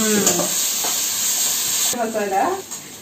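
Food sizzles and hisses steadily in a large hot wok while a voice talks over it, with brief scraping of stirring.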